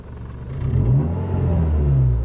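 A Renault Twingo RS with a fully modified exhaust revs up from idle, its engine note rising into a steady, throaty drone that holds close and loud.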